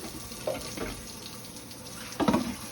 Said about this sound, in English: We're gonna fill this pot up with water.